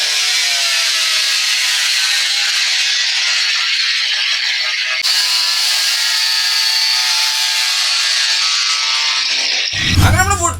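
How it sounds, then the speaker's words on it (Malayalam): Wood pieces sanded with a power sander give a steady, loud, high abrasive whir that runs almost unbroken for about ten seconds, ending in a short louder burst. "നമ്മൾ വുഡ് പീസുകൾ മുഴുവൻ നമ്മളിപ്പോ സാൻഡർ അടിച്ച് വൃത്തിയാക്കി എടുത്തിട്ടുണ്ട്"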